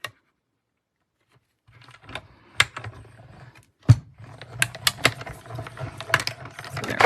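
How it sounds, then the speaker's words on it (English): A die-cutting machine feeds card through with a mechanical clicking and ratcheting churn after a silent start, close and moderately loud, with irregular clacks over a low hum. "I will need to run this through my machine twice to cut out both of these."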